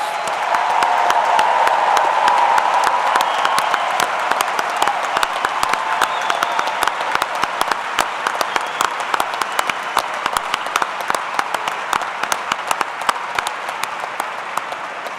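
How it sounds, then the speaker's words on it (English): Audience at a fall university commencement ceremony applauds the new baccalaureate and associate degree graduates, a dense, steady wash of clapping that runs loud and continuous throughout with no speech over it. "Families and friends, please applaud the graduates."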